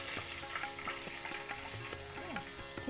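Chicken pieces sizzle in a pot while being stirred for a Bengali Shaheb murgir pot roast, a close, continuous crackle with rhythmic scraping strokes of a spoon and small clinks, no voices over it.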